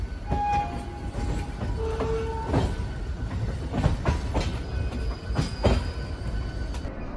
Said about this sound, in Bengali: হাওড়া থেকে লোকাল ট্রেনটা ছেড়ে দিল